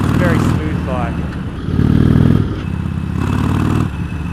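An Indian Chieftain motorcycle on the move, its engine a steady low rumble with swells of revving throughout, heard up close while a rider talks over it.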